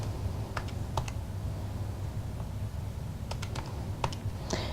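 Calculator keys are pressed to enter a fraction, giving a few quick, light clicks in two small clusters over a steady low hum, close and fairly faint, with no voices.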